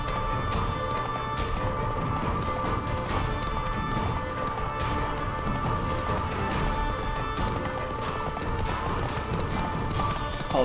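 Roach, a horse in The Witcher 3: Wild Hunt, gallops steadily with a continuous rapid clip-clop of hooves, loud and close, set against a busy game soundscape, with no talk.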